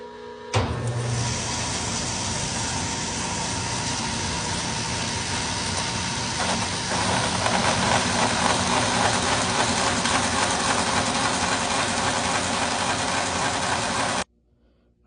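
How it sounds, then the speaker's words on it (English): A bandsaw runs steadily nearby, cutting with a push sled as it makes a heater hose block for a 1968 Chevelle, with a continuous whir and mechanical rattle that stops abruptly near the end. "We'll head over to the bandsaw."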